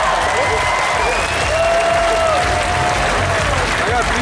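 Crowd applause and cheering at a professional beach volleyball match, a dense continuous roar of clapping and voices from a large audience, loud and sustained throughout.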